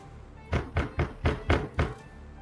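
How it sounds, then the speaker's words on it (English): Metallic knocking on a door, as in a Fallout tabletop role-play session: six evenly spaced heavy thunks in a steady rhythm, fairly close and clear, with no talking over them. "You can hear metallic knocking from the other side."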